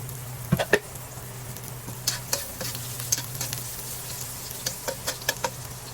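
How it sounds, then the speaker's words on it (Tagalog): Garlic sautés in reused cooking oil over low heat, a continuous close sizzle with a light crackle and frequent short clicks and scrapes of a utensil stirring. "igisa na po natin first ang ating bawang"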